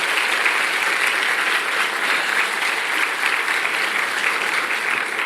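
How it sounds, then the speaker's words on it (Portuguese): Congregation in a Baptist church giving a steady round of applause, dense even clapping sustained for several seconds with little else audible. "Uma salva de palmas, Senhor."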